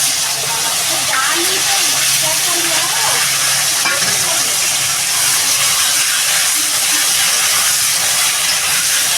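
Vegetables for a prawn curry with green banana and potato fry in a pan with ground coriander and cumin, giving a steady, even sizzle and hiss that runs without a break. Faint sounds of stirring rise now and then.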